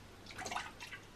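Milk poured from a bottle for a child at home, a brief, quiet splashing trickle lasting about a second with no talk.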